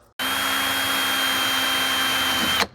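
Steady whine of a power drill boring a small cotter pin hole in a 2021 Kawasaki ZX-10R rear brake part, one continuous run of over two seconds, close and loud, starting and stopping abruptly.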